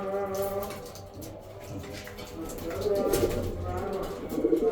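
Pigeons coo beside a garage in a home loft, low soft throaty calls repeating over several seconds, with a person talking over them close by.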